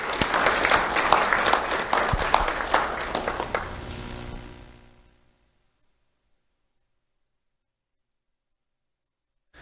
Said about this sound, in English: Let's have a round of applause for Niraya Astorga